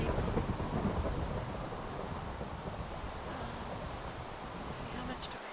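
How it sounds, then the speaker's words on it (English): Rain pours in the Minecraft video game as a dense, steady hiss that starts slightly louder and then holds level, alone without talk. "it's raining"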